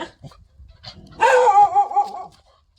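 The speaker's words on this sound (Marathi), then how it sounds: "ऐला कुत्र्याची पिल्लं आहे तिथं" A single short burst of young dog barking and yipping, fairly close, surrounded by quiet rustling and faint background sounds.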